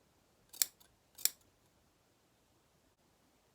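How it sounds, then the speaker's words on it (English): Two sharp, close snips of scissors cutting through the thin backing fabric of faux fur, spaced about half a second apart in an otherwise quiet room. "You cut through just the fabric."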